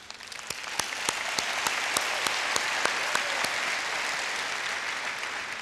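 Audience applause at a school district convocation for staff, a steady wash of clapping from a large crowd with a few sharp louder claps standing out, sustained throughout.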